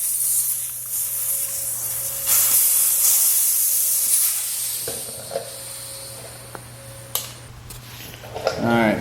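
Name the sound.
air hissing out of a tire valve stem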